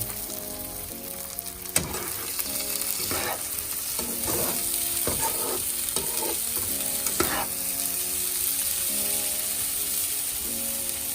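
Soaked, drained rice is stirred into butter and cardamom in a pot for Chettinad chicken biryani, giving a steady close sizzle with repeated scraping and stirring strokes throughout and no voices.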